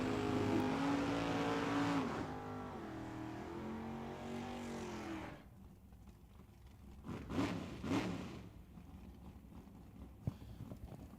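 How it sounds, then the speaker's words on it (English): Nostalgia Eliminator drag cars at Tucson Dragway spin wet tires in the water box: a loud, steady engine roar fills the first half, then drops to a quieter idle broken by a couple of sharp revving bursts. "Drivers bring their cars into the water box, get the tires wet, spin them to clean them and warm them."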